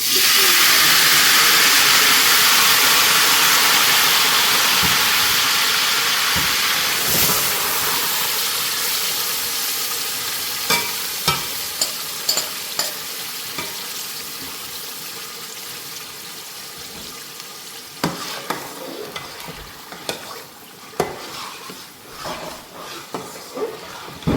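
Spinach with cinnamon sticks and black cardamom hitting hot oil on high heat, a loud hissing burst of steam that slowly fades into softer sizzling, broken by repeated spoon scrapes and taps against the pan.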